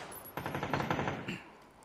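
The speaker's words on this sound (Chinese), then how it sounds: "哦，那边开火了" Burst of rapid automatic gunfire in a PUBG esports match, a fast run of sharp shots lasting about a second at moderate loudness before fading out, with no talk over it.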